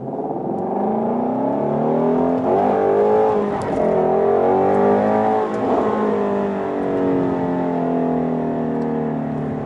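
A 2017 Shelby GT350 accelerating hard in sport mode on a bumpy highway: a loud, continuous engine roar that climbs and swells through the revs, heard from close by with no talking.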